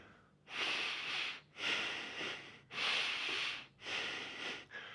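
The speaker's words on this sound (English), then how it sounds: "then we get really, really long, slow breaths with even more intensity" Forceful breathing exercise with long, slow, intense breaths, four heavy airy rushes of about a second each in a steady rhythm with short pauses, close and breathy, no talking.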